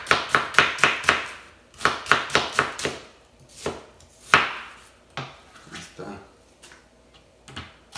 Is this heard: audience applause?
no